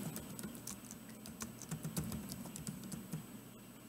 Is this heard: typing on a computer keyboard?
yes